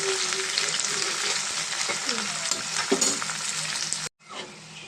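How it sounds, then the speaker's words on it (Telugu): Sliced onions sizzle steadily in hot oil alongside dry fish in a pan for a brinjal dry fish curry, a dense close frying hiss with a few stirring scrapes, cutting off abruptly near the end before quieter sizzling resumes. "ఎన్ని చేపలు అయితే ఫ్రై అయినాయి కదండి ఇప్పుడు దీంట్లో మనం కట్ చేసుకున్న ఉల్లిపాయ ఉల్లిపాయలు కూడా బాగా ఫ్రై అవ్వాలండి"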